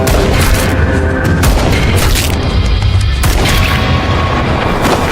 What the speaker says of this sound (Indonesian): Lalu Jody melepaskan tembakan beberapa kali sampai pria itu sekarat